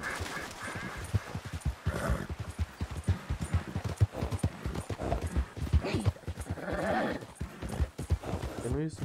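Rapid clip-clopping hooves of a horse in Red Dead Redemption 2 run steadily, with an occasional whinny and people talking over the hoofbeats.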